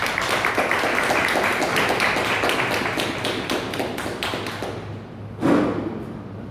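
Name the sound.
audience applause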